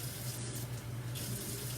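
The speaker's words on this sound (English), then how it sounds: "add 1 cup of water carefully" Steady stream of water pouring from a kitchen tap while a cup is filled, a continuous close rushing hiss with a faint low hum beneath.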